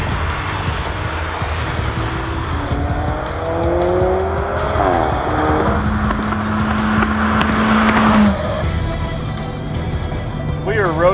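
Mid-engine sports cars drive along a mountain road, engines revving and shifting with rising and falling tones, loud and close, beneath someone talking over the sound.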